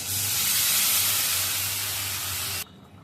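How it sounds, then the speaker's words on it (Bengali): Curry broth poured into a hot pan bursts into a loud, steady sizzle and steamy hiss that fills the space, then cuts off abruptly near the end, with no voices. "এবার ঝোলটা দিয়ে দিই"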